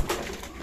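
Young vegetable-coloured racer pigeons coo nearby, a short, soft, low burbling coo over faint background noise.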